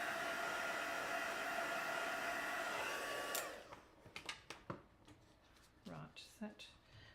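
A hair dryer or heat tool blows steadily at close range for about three seconds while drying a handmade card before die cutting, then cuts off, leaving quieter handling sounds and bits of talk.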